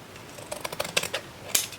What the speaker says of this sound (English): I'm going to cut this. I need my big ones.